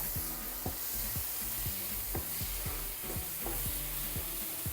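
Blended tomato is poured into a sizzling pan of egg curry with green peas and potato, the hot oil frying steadily while a spoon scrapes and stirs in regular strokes, close and fairly loud, with no talking.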